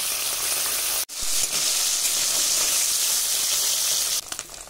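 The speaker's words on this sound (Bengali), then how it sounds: "ট্যাংরা মাছগুলো খুব সুন্দর করে ভেজে নেব।" Tengra fish frying in mustard oil in a kadai, a steady dense sizzle that runs almost unbroken, dropping out for a moment near the start and easing off at the end.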